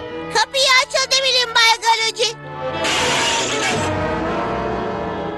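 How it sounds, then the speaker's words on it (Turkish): A cartoon glass window shatters in one loud crash with a bright crackling spray that trails off, right after a short burst of animated character speech. "Camı nasıl kırarsın?"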